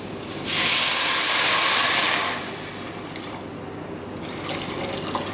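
Water pours in a steady rushing stream into a cooking pot of chana dal for about two seconds, then stops, leaving a quiet room hum.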